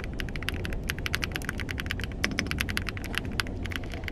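Rapid, continuous typing on a heavy full-aluminum keyboard, with dense, clacky keystrokes at a steady pace, close and fairly loud, with no voices.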